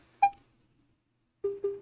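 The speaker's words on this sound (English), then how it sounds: "Now that sound's coming from my phone." A phone emits electronic tones during a 3D scan, one short sharp beep followed by a pause, then a quick run of three rapid, lower beeps, close and clean against silence.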